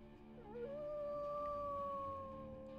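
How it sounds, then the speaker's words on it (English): A wolf in the video game WolfQuest lets out a single long, sustained howl that rises and then holds steady, clear and fairly quiet against a soft ambient backdrop. "Howling once again to get their attention."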